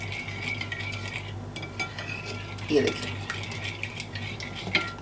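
A spoon stirs chow mein sauce made with sugar and oyster sauce, scraping and clinking against the bowl in irregular strokes over a low steady hum, with a brief spoken word.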